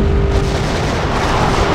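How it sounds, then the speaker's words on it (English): Laser-guided rockets fire in WWE Crush Hour, a dense booming roar that stays loud and unbroken for the whole short stretch. "Test now has the laser-guided rockets."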